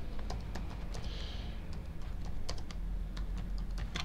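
Text is typed on a computer keyboard in a steady run of light, close key clicks over a low background hum.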